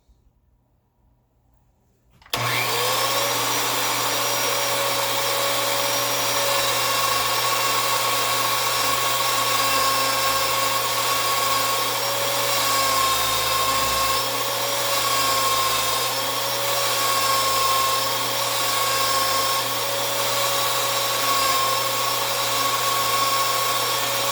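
A power tool works polish into a Taurus G3 pistol barrel, starting abruptly after a brief quiet moment and then whirring steadily and loudly at an even pitch for over twenty seconds with no talking.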